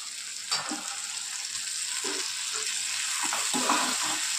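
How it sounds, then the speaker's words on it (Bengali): Spices fry in a pan with a splash of water added, giving a soft continuous sizzle and a few light stirring scrapes, close and brief. "খুব ভালো করে কষিয়ে নেব।"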